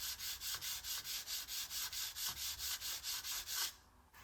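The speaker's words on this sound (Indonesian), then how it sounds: "Yang saya tandai akan saya amplas supaya lebih tipis. Amplas hati-hati dan lembut." Fine sandpaper gently thins a balsa wood propeller blade for an indoor flying model, about sixteen quiet, even strokes in a steady rhythm, close and soft, stopping near the end.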